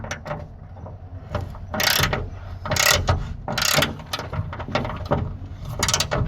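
A ratchet tightens a nut on a Mazda MX-5 Miata hood strut adapter plate, with close rapid clicking pawl bursts in repeated strokes, loud and mechanical throughout.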